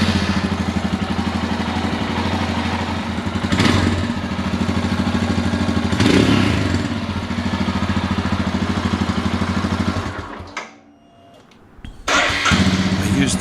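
A 2023 Royal Enfield Himalayan 411 runs through its stock exhaust with a deep, steady rumble and a couple of revs, goes quiet for a moment, then fires back up.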